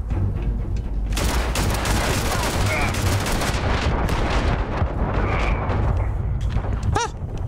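Rapid gunfire in the video game Starfield, dense loud bursts of shots running almost continuously with a sharp ricochet-like ping near the end.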